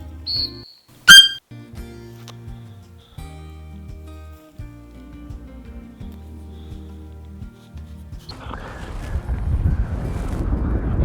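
A single short, shrill whistle blast sounds near the start, followed by quiet handling noises and rising wind buffeting the microphone.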